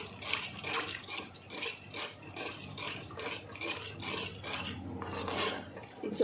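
Hot herbal hair dye oil is stirred in a pot, giving a continuous rough scraping and rubbing texture with soft liquid swishes, fairly quiet and close, no voices.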